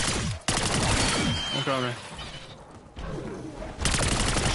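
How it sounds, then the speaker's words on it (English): Gunfire in a zombie video game, rapid bursts of shots packed densely at the start and again near the end, loud and close, with a player's voice talking in between. "he started shooting me up"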